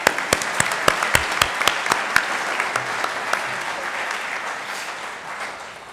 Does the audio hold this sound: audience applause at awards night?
yes